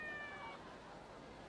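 Iriomote wildcat in a video game giving a single short, high, wavering meow at the start, then fading into quiet background ambience.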